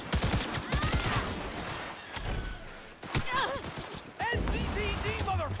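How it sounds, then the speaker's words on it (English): Police gunfire crackles in Cyberpunk 2077 as several bursts of shots ring out in a street fight, with shouting voices and other game sounds mixed in. "Why is the cop started shooting at me now?"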